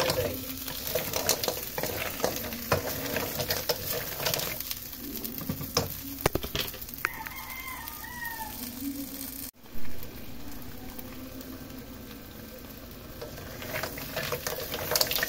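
Buttered mussels and mixed seafood being stirred in a pan, with a steady sizzle and frying crackle, scraping utensil strokes and a few brief clinks, close and continuous throughout.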